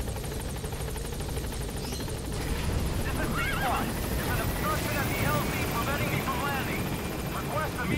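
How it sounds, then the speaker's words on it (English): A horse whinnies a few times in Metal Gear Solid V: The Phantom Pain, short wavering neighs rising over a constant loud helicopter-like engine drone. "You're not disturbed by a random horse."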